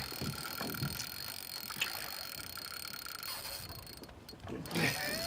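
A fishing reel's drag ratchets steadily under a fish's pull, with wind and outdoor rumble on the Rogue River, a fast mechanical clicking that continues for several seconds with a brief rustle near the end.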